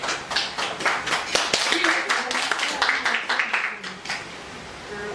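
A room of people at a Toastmasters club meeting clapping: a crisp, rapid patter of individual hand claps that stays fairly even, then thins out and fades toward the end, with little else under it.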